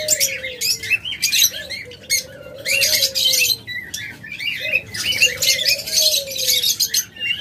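Pet lovebirds, budgerigars and cockatiels at a bird market, a close, continuous mix of shrill chirps and squawks with repeated tonal whistles, no talk.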